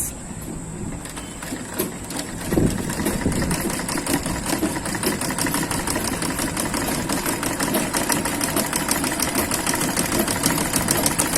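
A sewing machine stitches a seam on a simple pencil skirt, running with a rapid, steady mechanical whir and regular clicks after a brief start, heard close and alone.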